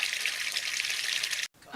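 Running water pours steadily into a patient treatment tub as it fills to the required level, a loud broadband rush that cuts off abruptly near the end, followed by a brief softer splash.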